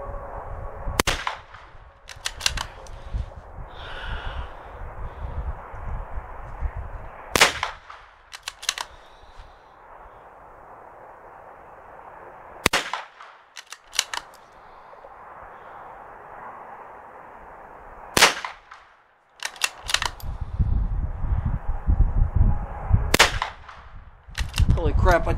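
Ruger MkII .22 pistol firing CCI standard velocity rounds at a 100-yard range: sharp, spaced single shots, about ten cracks at irregular intervals, close and loud over quiet outdoor background.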